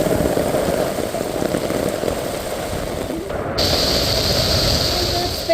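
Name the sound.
heavy rain falling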